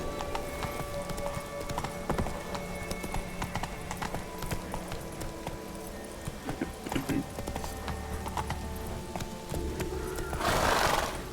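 Roach, the horse in The Witcher 3, gallops in a rapid, steady clip-clop of hooves, ending in a brief burst that may be a whinny, with faint talk in places.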